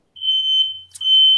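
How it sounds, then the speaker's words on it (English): A smoke detector fire alarm shrills loud and close, a sustained piercing electronic tone that dips briefly before resuming at full strength, with no one talking. "Oh, that is a fire alarm."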